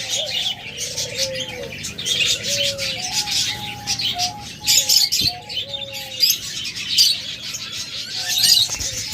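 Pet budgerigars, cockatiels and lovebirds chirp and whistle continuously, a busy overlapping chorus of tweets and short calls with a few coos, steady and fairly close throughout.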